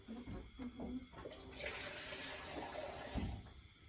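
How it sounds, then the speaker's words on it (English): Two tablespoons of water are poured into a mixture while baking at home, a faint splashing and trickling pour close by that swells midway and then settles. "then it's 2 tablespoons of water and mix"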